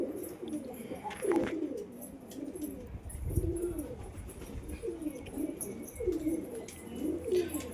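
Fantail pigeons coo in a pigeon house, repeated soft rolling calls coming in steady bursts every second or so, close and clear over a quiet background.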